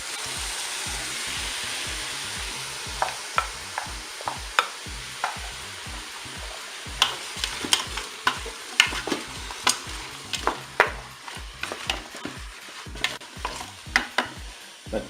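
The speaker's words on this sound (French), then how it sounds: "Je vais maintenant ajouter les pommes. Et puis les champignons." Apples and mushrooms sizzle in a pot in a Cookeo multicooker as a spoon stirs them, with a steady frying hiss under a series of sharp scraping and clinking strokes that grow busier toward the end.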